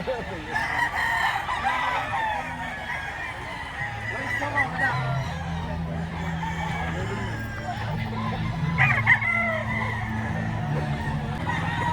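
Roosters crow and hens cluck at close range amid a busy yard where gamecocks are being sold, with people talking in the background.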